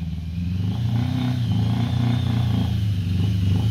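A 1986 Yamaha XJ 650 Maxim motorcycle engine cranks over and runs with a low, pulsing throb, close and steady after a brief start, with slight mechanical clatter and no talk.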